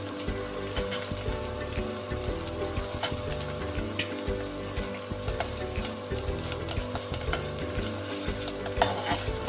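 Chicken filling for bread rolls roasting in a home kitchen pan: a steady, close sizzle runs throughout, broken by frequent stirring scrapes and light clinks of a spoon against the pan, with no voices.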